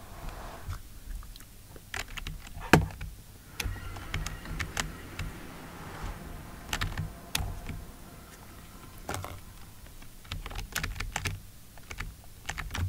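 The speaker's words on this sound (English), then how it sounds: "You can probably hear my keyboard louder than last time now" Scattered keyboard clicks and taps over a low, busy background hum, close by, irregular bursts of typing with occasional louder key strikes.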